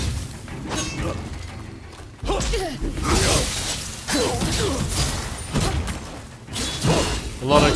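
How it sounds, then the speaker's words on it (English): In the samurai game Rise of the Ronin, several booming explosions and crashes come one after another, mixed with thuds, whooshes and shattering debris, with voices speaking over them. "A lot of explosions happening."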